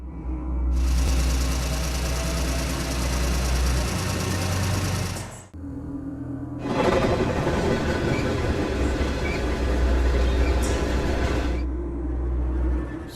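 A commuter train passes close by in two long loud runs of continuous rumble and rail rattle, broken by a short lull midway, with no talking.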